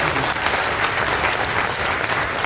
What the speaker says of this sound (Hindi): एक बार खड़े हो जाइए और जोरदार ताली बजाइए